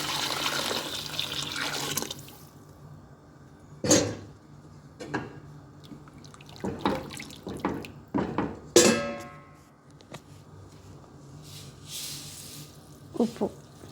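Soaking water from split red lentils is poured into a cooking pot for chicken rice, with a short splash at the start followed by scattered clinks, knocks and brief trickles of kitchen handling.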